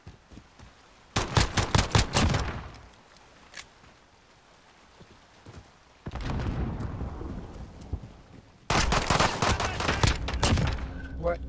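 Bursts of rapid pistol fire in a Modern Warfare free-for-all match, loud clustered shots in two or three separate volleys with quieter gaps and faint game noise between them.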